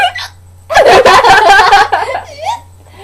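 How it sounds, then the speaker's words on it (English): A loud, close hiccup-like burst breaks into a stretch of giggling, snickering vocal sounds, then trails off into softer breathy noises. "I'm gonna hiccup in a couple seconds"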